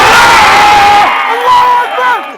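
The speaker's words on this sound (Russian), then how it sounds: "В этот момент болельщики не могли сдержать эмоций." Fans roar and cheer in a packed arena after a technical knockout win at an M-1 Challenge lightweight fight, a loud sustained crowd swell that fades into scattered whoops and shouts.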